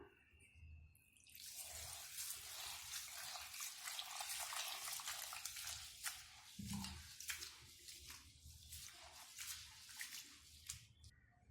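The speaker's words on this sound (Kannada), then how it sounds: "ಈಗ ನಾವು 1-2 ಸತಿ ನೀರು ಹಾಕಿ ಚೆನ್ನಾಗಿ ತೊಳ್ಕೊಳ್ಳೋಣ." Rice, urad dal, chana dal and fenugreek seeds are rinsed in water, giving continuous sloshing, splashing and dripping with irregular bursts of swishing throughout, close and fairly steady.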